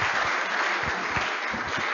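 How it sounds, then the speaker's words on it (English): A congregation at the Accra Academy 90th anniversary inaugural service claps steadily to welcome Reverend Dr. Fred Forson, a brief, even wash of applause. "Let's clap as we can."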